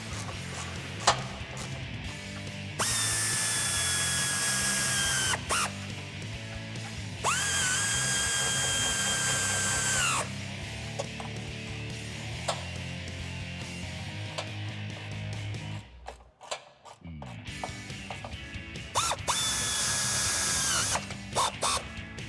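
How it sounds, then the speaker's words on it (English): Power tool driving a 13mm socket to tighten bolts on Barricade Enhanced Rubi rails being installed on a Jeep Wrangler JL, heard in several loud whirring bursts of a few seconds each, with pitch rising and falling and short ratcheting gaps between them. "Now to tighten up these bolts, you're going to use a 13mm socket."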